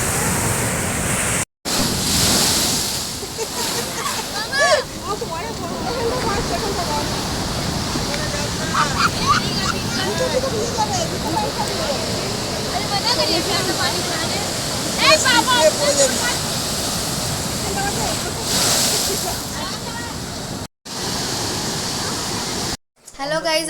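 Sea waves at Digha beach wash in with a continuous roaring surf and wind rush, swelling in several louder surges, while people talk and call out over the noise.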